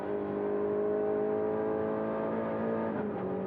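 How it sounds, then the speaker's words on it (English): A 1986 Group A race car at Bathurst sends a steady, fairly loud engine drone through the gearbox, with a faint clunk near the end as a gear goes in. "listen to the gearbox in this car as well"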